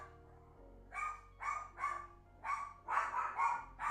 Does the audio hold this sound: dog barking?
yes